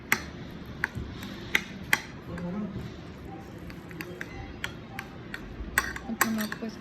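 Instant ramen noodles are mixed with their seasoning in a bowl, giving scattered light clinks and taps of a utensil against the dish and soft stirring noises, with someone talking over them.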